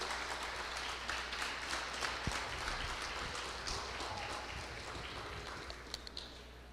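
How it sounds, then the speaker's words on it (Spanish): Congregation in a church service clapping for a volunteer, a faint, diffuse patter of many hands with a low steady hum beneath, heard from a distance and never rising above soft. "Le podemos dar un aplauso a Jessica por el excelente servicio"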